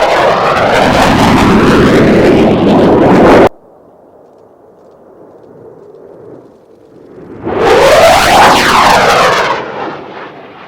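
A display aircraft at the Cosford Airshow flies a square pattern with turns at each corner, making a loud broadband jet roar that passes, drops to a faint distant rumble, then surges back loud with a sweeping pitch shift as it nears again.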